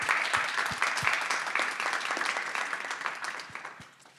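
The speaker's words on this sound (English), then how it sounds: "Please let's join in a round of applause for everyone who helped bring today together." Applause from an audience at a literary event featuring a poet, a steady wash of many hands clapping at moderate distance for about four seconds before thinning and fading out near the end.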